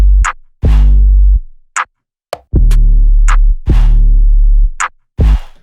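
A programmed plugg-style drum beat of booming kicks and sharp snare hits with no hi-hats, steady and loud, with gaps between the hits.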